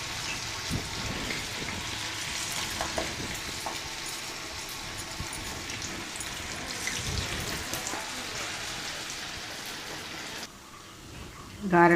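Corn garelu (fritters) frying in hot oil give off a steady, dense sizzle and crackle for most of the stretch, easing off near the end before a brief louder burst.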